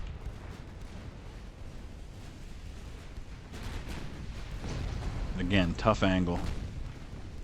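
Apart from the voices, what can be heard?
naval gunfire in the video game Ultimate Admiral: Dreadnoughts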